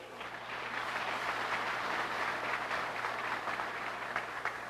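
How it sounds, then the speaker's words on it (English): Audience applause at a product launch event for an industrial sewing machine, a steady wash of clapping at moderate level, continuous for several seconds with a faint low hum underneath. "let's give the biggest round of applause to honor these people"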